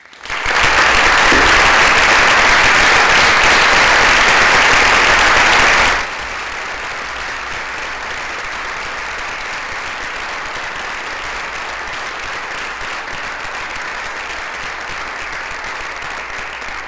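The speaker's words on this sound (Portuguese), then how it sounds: "Quero uma salva de palmas para o Zé da Guiné." An audience at a talk on breaking the silence around racism bursts into loud, dense applause for about six seconds, then it drops off sharply to a much quieter steady background.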